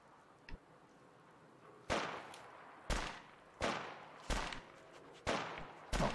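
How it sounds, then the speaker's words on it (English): Gunfire in Fallout 4: a faint early crack followed by five or six loud, sharp shots spaced about a second apart, each with a short echoing tail, with no talking. "Okay, gunfire."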